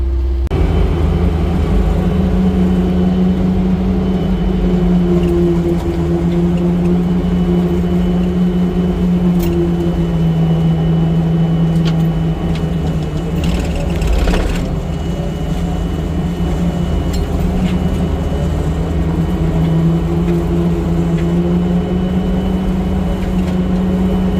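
Tractor with a quick-attach brush mower driving through the bush, a steady loud engine drone with a sustained low hum throughout, no talking.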